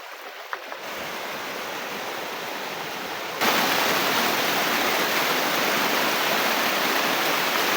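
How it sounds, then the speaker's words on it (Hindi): Water rushes and roars at a waterfall in the quiet of Kanhati Garden, a dense, constant broadband hiss that suddenly grows louder and brighter partway through, with no voices. "इतने सन्नाटे में पानी का शोर अलहदा ही अपना"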